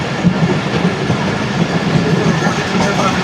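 Awam Express passenger train passing between Peshawar and Karachi, a steady rumbling roar with faint clickety-clack of wheels throughout, close and continuous.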